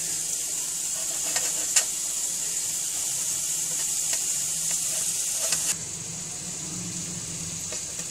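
Masala spices sizzling in a hot pan, a constant hiss with occasional clinks and scrapes of stirring, the sizzle dropping noticeably near the end.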